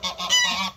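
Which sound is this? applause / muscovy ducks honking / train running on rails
muscovy ducks honking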